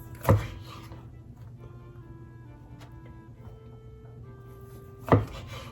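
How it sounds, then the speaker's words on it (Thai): Two sharp knife strikes through tofu on a board, one near the start and one near the end, with quiet kitchen hum and faint tones between them. "หั่นเต้าหู้นะคะ"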